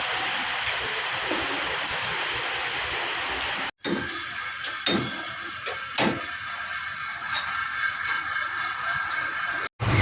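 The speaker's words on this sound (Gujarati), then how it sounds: "વરસાદ ચાલુ છે" Steady rain falls with a dense hiss during a vehicle repair stop in Bhuj, broken by a couple of brief cutoffs and a few thumping knocks.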